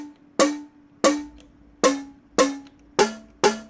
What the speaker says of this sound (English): Much more of a snare, right?